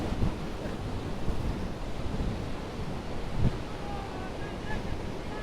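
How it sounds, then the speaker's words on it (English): The water of Iguazu Falls, a huge waterfall system, roars in a continuous, heavy broadband rush that fills the whole scene, with wind buffeting the microphone and a faint voice at times. "The view of the falls is still really cool from here."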